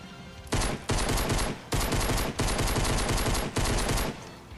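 Loud, dense bursts of automatic gunfire in rapid succession with brief gaps between volleys, close and sustained, no voices, in the video game Fortnite on PS4.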